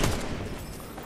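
Gunfire in the Fortnite video game on PS5, a dense burst of shots loud at the start and continuing as a rolling barrage that fades slightly over about a second, with no talk over it.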